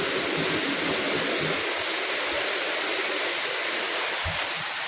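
Steady rain falls after many dry days, a constant close wash of dense hiss with a few faint low knocks and no talk.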